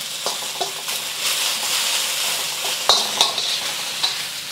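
Garlic sizzles and fries in oil in a pan for moo shu pork, a continuous hiss broken by a few sharp clicks and scrapes of a utensil stirring.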